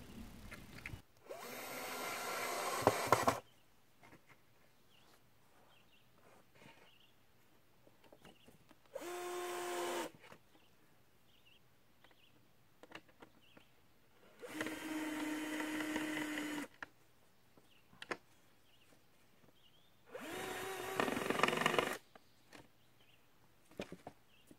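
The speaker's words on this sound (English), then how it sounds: "I've got my drill out and some screws," A power drill driving screws into lumber for a raised garden bed whirs in four separate bursts of a couple of seconds each, with quiet pauses between, close by and fairly loud.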